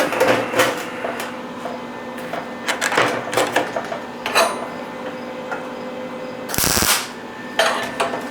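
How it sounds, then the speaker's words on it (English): Short bursts of arc welding as metal pieces are tack welded together in a few spots, with crackling zaps scattered across the clip and one longer, louder buzz near the end. "So I'm just in a few spots, just tacking it up"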